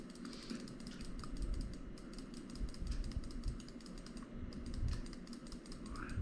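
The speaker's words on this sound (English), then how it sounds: "I'm just clicking through fast here." Rapid computer mouse clicks while flipping through photos, a dense, steady run of sharp clicks across the whole stretch with a brief pause near the middle, close and fairly even in loudness.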